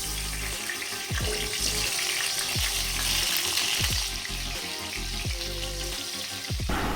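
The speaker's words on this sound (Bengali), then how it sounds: "এখন বেগুনটা প্রথমে ভেজে নিচ্ছি" Brinjal pieces coated in salt, turmeric and a pinch of sugar fry in hot oil in a wok, with a steady loud sizzle and several sharp clinks and scrapes of a utensil against the pan.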